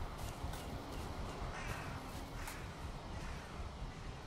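Faint gulls call in Valheim, their cries rising over a soft, steady background wash of ambient noise with no talking.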